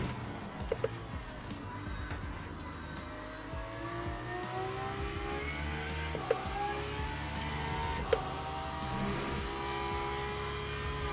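Race car engine in the Le Mans Ultimate video game at Silverstone, revving up and accelerating out of corners with rising pitch sweeps and brief tire squeals, steady and loud, no talk.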